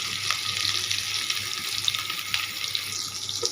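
Chopped onions frying in a pan for an onion vegetable dish, a steady close hiss and sizzle with faint crackles running throughout, no voices.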